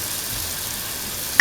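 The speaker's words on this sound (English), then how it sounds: "Put in the tomato pieces." Tomato pieces hit a hot pan and sizzle in a steady, bright hiss lasting just over a second, with a short clatter at the end.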